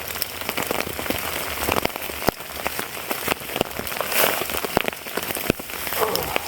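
Rain pattering on a tarp at a campsite, a loud, close, continuous hiss broken by frequent sharper drips and taps landing at irregular moments.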